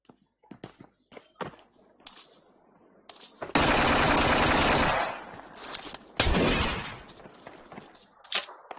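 Gunfire from a double barrel shotgun and other weapons in the video game PUBG Mobile: scattered quick shots, then a long loud burst of sustained fire and another heavy blast, with a voice talking underneath.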